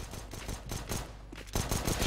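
Gunfire from a P250 pistol in a first-person shooter game, heard as a run of sharp repeated shots with a louder burst near the end.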